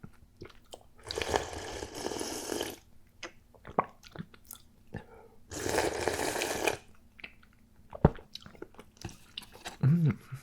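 Spicy miso ramen noodles and a chewy dried mushroom are eaten close to the mic, with wet chewing, slurps and a couple of longer noisy bursts of slurping, alongside soft breaths and small mouth clicks.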